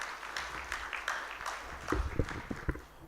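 Scattered audience clapping at a trade and investment forum, uneven and fairly sparse, with a few louder claps standing out near the end.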